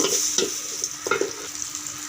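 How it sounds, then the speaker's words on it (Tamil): Oil sizzles steadily in a pan as onions and fenugreek fry while a utensil stirs, producing a few scraping knocks against the hiss. "எண்ணெய் ஊற்றி வெங்காயம் வெந்தயெல்லாம் போட்டு நல்லா வதக்கிறேங்க"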